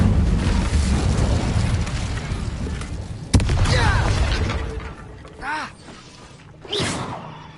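A fire spell cast in the Hogwarts Legacy video game inside a mine: a sharp crack, then a loud roaring, crackling burst with two shorter whooshing flares after it.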